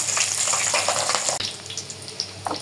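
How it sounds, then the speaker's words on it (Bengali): Snacks frying in hot oil until brown, a steady close sizzle and crackle with scattered pops, loud and continuous throughout. "এখন এগুলোকে পুরা বাদামি করে ভাজে নিব"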